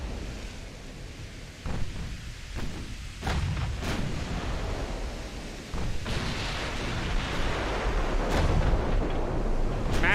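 Heavy naval shells strike home in Ultimate Admiral Dreadnoughts as a fast battleship scores a massive hit, producing a booming explosive impact over a continuous roaring sea-and-battle rumble, with further sharp blasts following across the scene.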